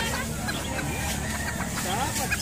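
Bantam chickens cluck and chatter at close range in a busy yard, with nearly continuous background noise and people talking nearby.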